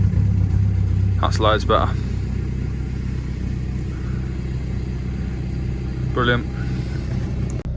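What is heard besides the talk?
Passat B5.5 car engine starting after new battery installation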